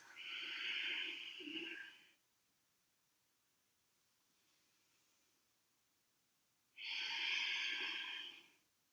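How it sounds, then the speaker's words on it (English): Deep breathing during a yoga class: two long, loud breaths close to the mic, each lasting about two seconds, separated by a quiet pause of roughly four seconds. "2 more deep breaths."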